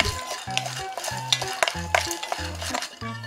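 Peanuts dry roasting in an oil-free pan while being stirred, with scraping and rattling strokes in steady bursts and a faint sizzle underneath, close and clear with no talking.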